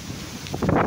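Strong gusting wind as a typhoon approaches mainland Luzon, roaring across the microphone and swelling louder in the final half second of a very short burst.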